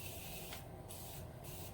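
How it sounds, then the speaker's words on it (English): Morphe makeup setting spray misted from its pump bottle in several quick, close hissing bursts, each a short pressurized spritz with pauses between. "I'm taking my Morphe spray"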